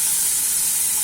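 Onions sizzling in a hot pan while making a quick couscous, giving a steady, close frying hiss with no break across the second.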